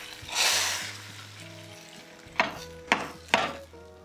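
Mustard seeds and spices for a Telangana horse gram rasam (kattu charu) hit hot oil in a pan, giving a loud burst of sizzling hiss followed by a quieter fry with three sharp crackles near the end.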